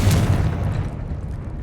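Explosion spell in the Hogwarts Legacy video game, a single loud deep boom that hits at once and then rumbles away over a second and a half.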